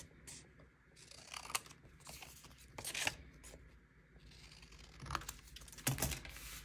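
Scissors snip through paper up close in a series of crisp, irregular cuts with quiet rustling between, a few louder snips standing out.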